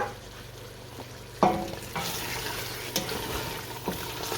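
Mutton frying in masala for aloo gosht, stirred in a pot with a steady background sizzle, a sharp scrape or clank at about 1.5 seconds and a few softer stirring knocks after.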